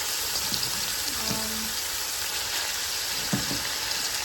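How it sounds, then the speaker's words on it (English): Cabbage cooking in a pot for steamed cabbage and saltfish gives a steady, moderate sizzle and crackle, with a few soft clinks and stirring bumps nearby and no one talking. "Now I'm gonna add the cabbage."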